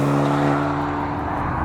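A Maserati Grecale engine revs hard under acceleration, giving a brief, loud, steady drone of strong harmonic tones.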